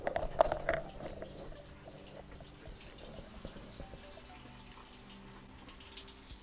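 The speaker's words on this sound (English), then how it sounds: "Just gonna leave the water running?" Water runs quietly and steadily from a tap in a woodshop aboard a sailboat, a faint continuous trickle after a brief louder splash at the start, with no voices.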